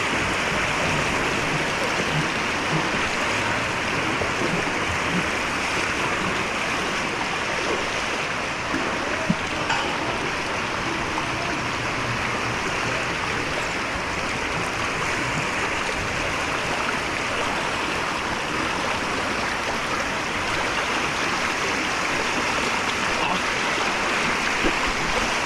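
Strong rushing floodwater after a night of rain in a flooded residential area, a steady loud churning wash of water that continues unbroken throughout.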